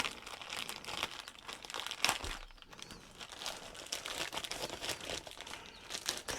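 Plastic packaging crinkles and tears continuously as a sink accessory is unboxed, close and fairly quiet, with rustling and crunching throughout.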